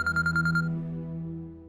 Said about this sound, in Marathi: शेफाली तुझ्या आईचा फोन आहे.